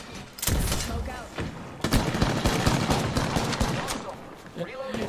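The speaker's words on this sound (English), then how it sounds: "Where's all this gunfire coming from?" Gunfire in the Apex Legends video game comes as dense, rapid automatic bursts and scattered thuds, fairly loud and continuous through most of the stretch, with a brief lull near the start.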